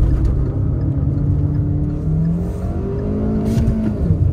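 An SUV engine revs hard toward its 5000 rpm redline for a launch, a loud droning tone rising and holding, heard from inside the cabin.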